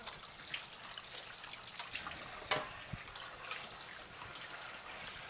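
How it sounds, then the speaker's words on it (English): Hands being washed under a running kitchen tap after handling sticky dough: a soft, continuous trickle of water with small splashes and a few louder splattering moments, fairly quiet throughout. "I'm going to wash my hands because I'm super sticky now from divvying up that dough"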